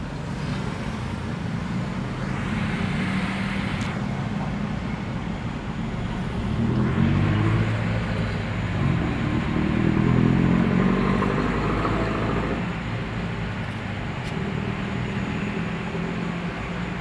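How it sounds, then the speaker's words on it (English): A 2020 Geely Azkarra 1.5 turbo 48-volt mild hybrid 4WD SUV starts and settles into a quiet, steady idle: a low, even hum heard up close for the whole stretch, with no speech. "What a very quiet start sequence of this kind of Azkarra because of its mild hybrid system."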